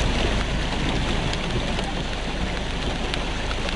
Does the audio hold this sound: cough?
no